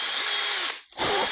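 A power drill whines loudly at high speed, cuts out briefly, then spins up again, close and alone.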